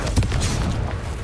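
The Confringo fire spell in the video game Hogwarts Legacy lands as a single short, deep boom with a rumbling burst, loud and close.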